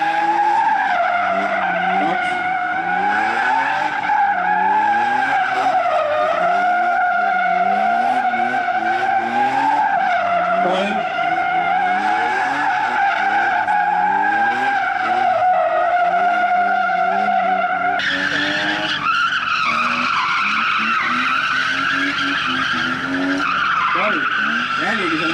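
A drift car at the 2021 Kiltsi drift competition skids around cones, its engine wailing and tires squealing continuously and loudly, with a commentator talking over it.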